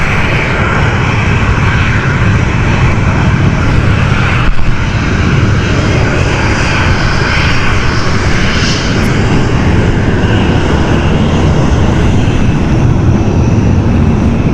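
A Ryanair airliner passes close by at Stansted Airport, a very loud, continuous engine roar that fills the whole stretch at near range, with no speech over it.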